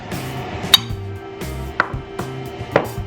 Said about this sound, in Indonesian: bumbu yang tadi kita bakar, kita ulek